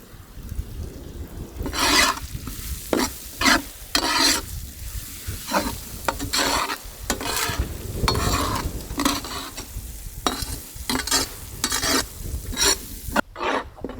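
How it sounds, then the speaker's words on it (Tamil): Crushed masala with ginger and whole spices is sautéed in oil for a river mussel dish, with rhythmic scraping stir strokes over a constant close sizzle. "அப்படியே இந்த எண்ணெயில் போட்டு மசாலாவை நல்லா வதக்கிடணுமுக்கா."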